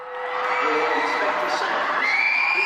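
A large crowd screams and shrieks together in a concert arena as people flee, a dense, sustained wall of high-pitched voices that rises and holds.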